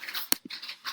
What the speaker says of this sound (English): That's my dog. You can hear in the back.